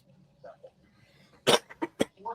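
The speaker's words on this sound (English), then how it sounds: "pardon my coughing" A person recovering from an illness coughs several times in quick succession, close and fairly loud, after a few quiet murmurs.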